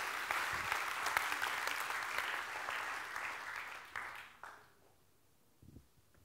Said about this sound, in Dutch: Ik vraag een hartelijk applaus